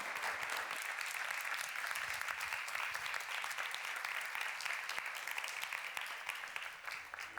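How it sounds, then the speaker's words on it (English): Audience at a conference session on cross-border cooperation gives speakers a sustained round of applause, many hands clapping evenly throughout and tapering slightly toward the end, fairly quiet overall with no speech on top. "Another big warm round of applause for all our speakers."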